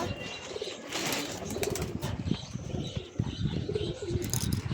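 Pigeons near their nest, with a burst of wing flapping as one flies off to sit on its eggs, followed by soft cooing and light chirps close by against a busy outdoor background.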